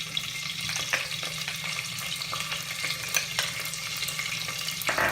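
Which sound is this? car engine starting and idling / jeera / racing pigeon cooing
jeera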